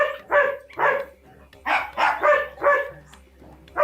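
A dog in advanced off-leash obedience training barks repeatedly and close by, about eight sharp loud barks in an uneven rhythm with brief pauses between them.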